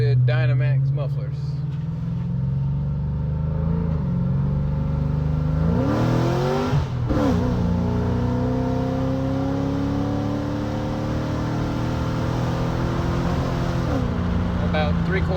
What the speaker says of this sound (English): And here's what it sounds like with Dynamax mufflers.